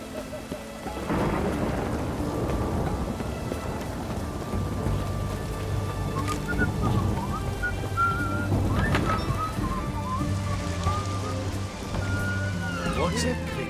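Steady rainfall and rolling thunder in The Witcher 3: Hearts of Stone, with a constant hiss of rain on surfaces, deep rumbles and occasional sharp cracks. Game voices speak briefly over the storm.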